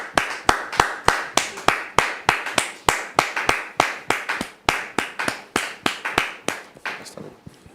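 Rhythmic clapping from an audience welcoming a pastor onto the stage, steady loud claps in a regular beat fading slightly near the end.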